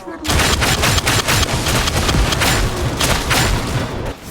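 Ripper shotgun blasting as wielded by an Ogryn in Warhammer 40,000: Darktide, a loud, dense run of heavy booming shots fired in rapid succession with no pause, filling the whole stretch with harsh, roaring gunfire.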